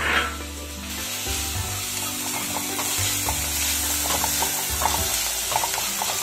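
Fried potato and egg with masala frying and being stirred for egg pasta Maggi, a steady close sizzle with scraping and stirring strokes throughout and no talk.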